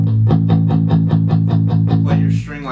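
A bass guitar string is played palm-muted, with the palm resting at the bridge, giving about ten short, crisp, evenly spaced plucked notes in a steady rhythm, up close and clear, with no talk over them.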